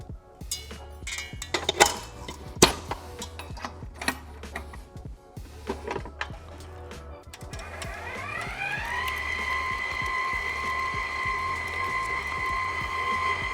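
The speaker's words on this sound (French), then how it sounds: "Et ensuite, nous allons monter l'ensemble au batteur." An electric mixer whips cold cream of 35% fat, starting with clicks and handling knocks before the motor spins up into a steady, close whirring hum that continues to the end.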